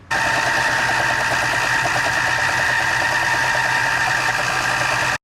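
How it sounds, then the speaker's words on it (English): A belt sander runs steadily for about five seconds, giving a loud, continuous droning hum with a rough motor buzz before it cuts off at the end. "Back to the belt sander."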